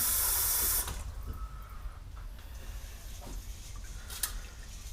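Cold tap water runs in a kitchen sink while rice is rinsed for fried rice, a bright hissing gush that cuts off after about a second, followed by quieter sloshing and handling sounds.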